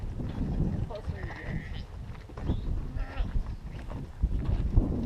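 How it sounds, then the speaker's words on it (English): Sheep bleating in a field, several wavering bleats rising intermittently through the clip, close to moderate distance, mixed with people talking and rustling outdoor noise. "The sheep are funny. They follow each other when they're scared."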